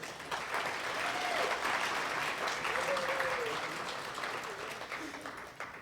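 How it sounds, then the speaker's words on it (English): Sustained audience applause at a conference award luncheon, a dense, even wash of many hands clapping in a large room that tapers slightly toward the end, with voices faintly audible beneath it. "Please give these leaders a round of applause"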